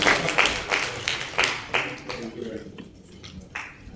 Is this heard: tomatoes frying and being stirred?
no